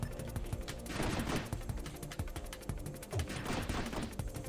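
Rapid three-round burst fire from a ship's weapon in the space shooter Nova Drift, with dense repeated shot clusters cracking out steadily and loudly across the whole stretch, with no talk.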